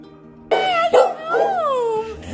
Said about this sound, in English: he loves to bark